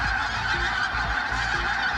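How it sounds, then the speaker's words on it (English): A flock of migrating geese in Lancashire honks continuously, many overlapping calls layered into a loud, dense chorus. "The squadrons of geese using Lancashire as a service station for birds on their long migration south."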